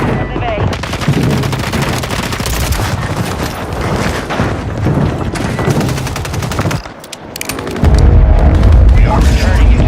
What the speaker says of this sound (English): Friendly mortars on the way.